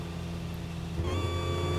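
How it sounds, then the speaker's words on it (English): A supercharged-sounding car engine in Need for Speed Heat drones steadily, its pitch rising with a high whine layered on top partway through, fairly quiet and with no talking. "Why does it sound like it's supercharged?"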